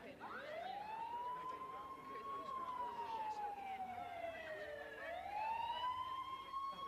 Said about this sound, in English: When the ambulance drove up